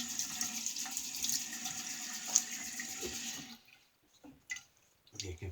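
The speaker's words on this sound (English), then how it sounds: "Let me rinse here." Running tap water rinses shaving gear at a bathroom sink, a steady close hiss of flowing water for about three and a half seconds before it stops, followed by a few faint clinks and drips.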